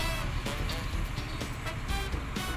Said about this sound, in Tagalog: napakaingay po yung sasakyan dito sa amin